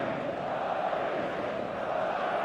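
Stadium crowd in a football video game on PlayStation 5, a dense steady roar of distant massed voices with a swelling chant-like murmur and no clear breaks.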